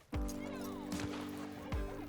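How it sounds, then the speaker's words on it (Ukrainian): A horse in Red Dead Redemption 2 neighs, its whinny rising and falling over a steady low game hum, with a few heavy hoof thuds near the start, middle and end of a short stretch. "Давайте на коня сядемо, и отъедем,"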